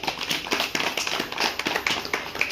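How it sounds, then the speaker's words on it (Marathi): An audience claps to welcome a guest at a gathering at Buddha Bhumi, Mavsala. The applause is a steady patter of many hands, moderately close, with sharp taps running throughout. "तेव्हा आपण त्यांचं सर्वांनी टाळ्या वाजवून त्यांचं स्वागत करूया"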